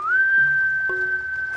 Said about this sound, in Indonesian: Bagaimana kalau coba bersiul?